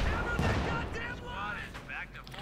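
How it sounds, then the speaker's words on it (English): Tank guns firing in Company of Heroes 2, an M10 and a Panzer IV trading shots, heavy booms and distant gunfire crackle under a steady game din, with a caster talking over the action. "it looks like the M10 is also firing away"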